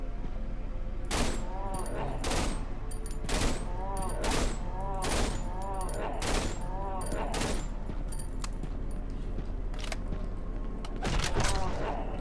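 In the horror game Cry of Fear, a sniper rifle fires a string of sharp, loud shots, roughly one a second with brief pauses, each followed by a mechanical bolt clack, over a constant low background hum.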